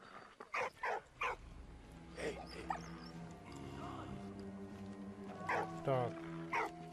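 A dog barks in the World War I video game Valiant Hearts: The Great War, several short sharp barks and yips at the start and again near the end, with game sounds and music underneath.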